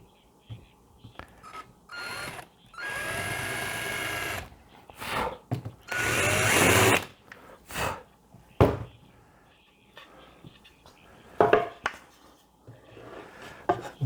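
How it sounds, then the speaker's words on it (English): A power tool bevels the edge of a wooden couch arm hatch for a camper van conversion, coming in several loud bursts of grinding and whirring separated by short pauses and lighter handling noises. "And I will go ahead and bevel that out just a little bit."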